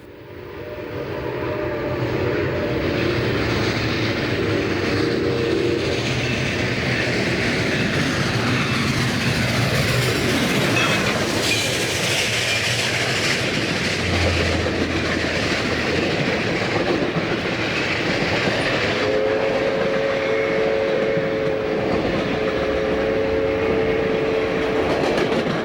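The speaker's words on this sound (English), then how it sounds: "the train doing full track speed as it raced through the station without stopping" A Caltrain train roars through Palo Alto station at full track speed without stopping, wheels clattering loudly for a long stretch as a horn sounds near the end.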